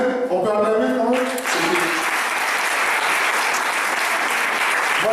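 Sustained audience applause fills a church youth worship gathering, dense and steady clapping after a brief sung voice at the start, loud throughout.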